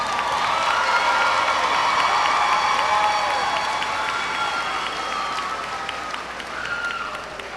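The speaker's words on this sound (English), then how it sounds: "Please give the students in row 9 a round of applause." Sustained applause from a large crowd at a high school graduation ceremony, steady loud clapping with scattered cheers lasting throughout and tapering slightly toward the end.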